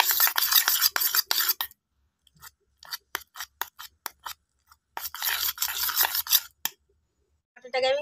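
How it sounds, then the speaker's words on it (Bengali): Butter beaten hard in a bowl for a cake cream, a fast continuous scraping and whisking rattle in two long bursts separated by a stretch of sparse taps and clicks. "বাটারটাকে আবার আমি ভালো করে এরকম ফিটে নেব"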